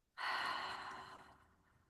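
A single long breath exhaled through the mouth during a 4-7-8 relaxation breathing exercise, starting abruptly, then a steady airy rush that slowly fades over about a second and a half, close and fairly soft.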